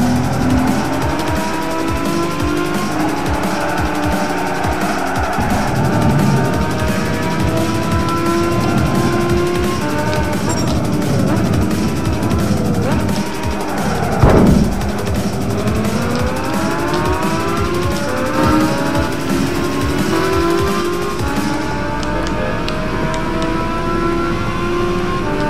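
A Lamborghini screams through a race in Gran Turismo 5, its engine note climbing and dropping through repeated gear changes with rising whines and a brief tire squeal, loud and continuous with no talking.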